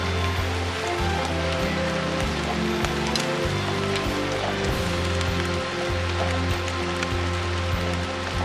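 Rain falls in a forest during stag beetle collecting, a steady pattering hiss with scattered drops and faint clicks throughout, and no talking.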